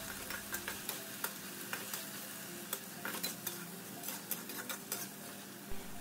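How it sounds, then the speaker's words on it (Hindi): Masala frying with ginger garlic paste over a low flame for a healthy rajma dish, a constant close sizzle broken by repeated sharp scrapes and taps of a spoon stirring the pan. "मैं उसको अच्छे से सॉटे कर लूँगी और तब तक फ्राई करूँगी जब तक वो एक गोल्डन ब्राउनिश टेक्सचर ना दे."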